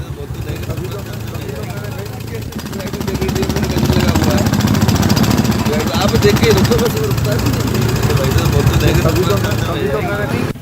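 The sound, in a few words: road construction work with machinery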